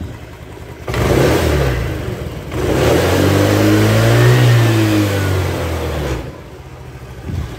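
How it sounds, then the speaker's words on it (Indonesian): A Honda Vario 110 scooter engine with a freshly fixed carburetor revs up sharply from idle, holds a loud sustained whine, then drops back to idle, close to the listener with no talking. "Langsung naik ya di gas ya, enggak kayak tadi lama naiknya ya."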